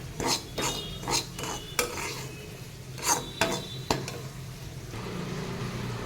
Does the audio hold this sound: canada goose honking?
no